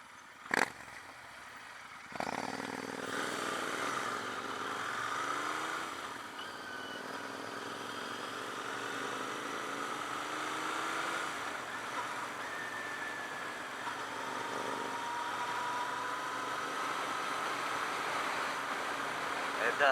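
Riding a Royal Enfield Continental GT 650 through corners, the engine hums and rises and falls in pitch beneath wind rush, after a sharp knock near the start, with someone talking intermittently over it.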